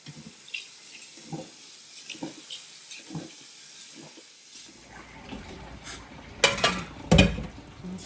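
Rice is swished and rinsed in water at a kitchen sink, with a series of soft, regular sloshes followed by louder splashing and running water close by.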